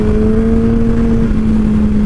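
A 2007 Yamaha R1 motorcycle engine held at high revs, a loud steady drone with a strong sustained tone close by, no talking over it.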